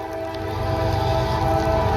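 A CSX freight train sounds a steady, loud horn blast with sustained tonal chords over a low rumble, continuous throughout with no talking.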